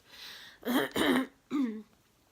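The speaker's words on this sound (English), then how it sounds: "if I am clearing my throat, I'm really sorry" A person clears their throat in three rough, close bursts, two run together and a third after a short pause, with no speech.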